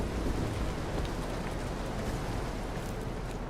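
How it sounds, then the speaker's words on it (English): Steady downpour of rain with a low rumbling undertone of thunder in a video game, dense and constant with no voices. "Rain's got to stop someday."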